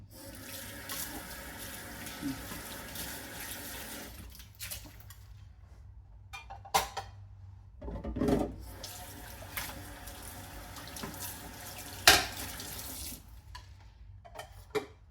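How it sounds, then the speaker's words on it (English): Tap water runs steadily into a kitchen sink as bowls are rinsed, with occasional clinks and knocks of dishes against each other and the basin, fairly close and continuous with brief pauses. "Let's go ahead and rinse some of these bowls."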